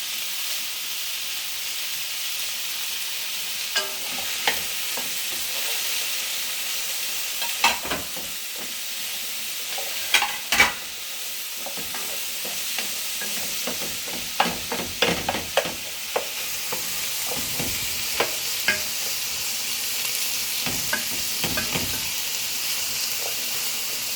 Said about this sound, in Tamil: இது நன்றாக வதங்கி வரமட்டும் கொஞ்சம் வெயிட் பண்ண வேண்டியிருக்கு